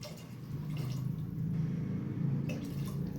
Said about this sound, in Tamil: ஸோ நான் 4 டம்ளர் தண்ணி ஊற்றிக்கிறேன்.